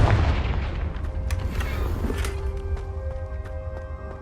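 A Confringo spell explosion in Hogwarts Legacy gameplay on Xbox Series X hits as a heavy boom at the start, then rumbles and fades into a lingering decay with light ringing tones.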